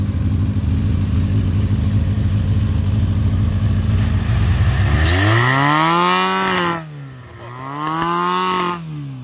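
A Honda car engine idles with a rough exhaust rumble, then revs up twice in rising and falling sweeps, loud and close.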